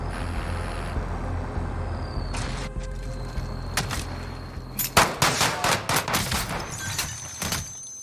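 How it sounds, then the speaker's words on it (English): Gunfire in a shooter video game: scattered sharp shots early, then a rapid run of loud cracks in quick succession, some close and some more distant, over a low rumbling background. "Nope, I'm getting shot up. I'm getting shot up."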